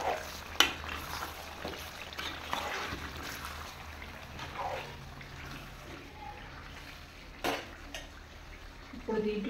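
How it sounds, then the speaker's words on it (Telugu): Telangana style chicken curry bubbling in oil in a pan before any water is added, soft simmering and stirring with occasional scrapes and clinks, fairly close and irregular. "చూడండి ఎలా ఉడుకుతుందో, తుక్క ఉడుకుతుంది ముక్క అయితే"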